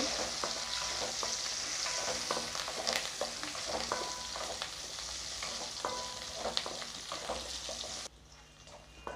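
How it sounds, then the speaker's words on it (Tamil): Onions sizzle and fry in a pan for village-style mutton uppu saaru, with scraping stirring strokes over a constant hiss. The sizzle drops to a quieter bubbling near the end. "இந்த வெங்காயம் லேசாக வதங்கட்டும்"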